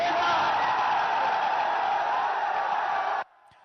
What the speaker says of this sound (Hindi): लेकिन समर्थक लगातार नारेबाजी करते रहे।